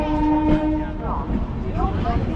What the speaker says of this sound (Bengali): এখানেই আমাদের ট্রেনটা আসবে, যোগনাগরি ঋষিকেশ টু হাওড়া দুন এক্সপ্রেস।